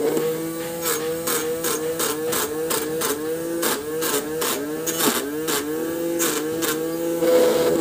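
A homemade chilli cutter machine runs with a steady motor hum broken by rapid, rhythmic chopping bursts that bog the motor down repeatedly, close and fairly loud.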